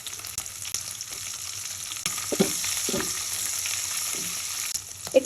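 Sliced green chilies sizzle in hot oil with deep-fried onions, a steady close frying hiss with occasional stirring clinks, no talking.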